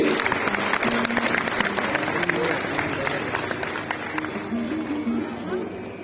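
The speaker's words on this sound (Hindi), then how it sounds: "जोरदार तालियों से" An audience at a religious gathering with a revered guru and the chief minister breaks into loud, sustained applause, a dense wash of many hands clapping with crowd babble and voices underneath.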